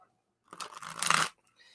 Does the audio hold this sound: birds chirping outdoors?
no